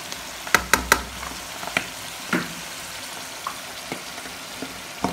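Fish pastilla filling with soy sauce and olive oil sizzles in a pan while being stirred, with several sharp utensil knocks against the pan over a steady frying hiss.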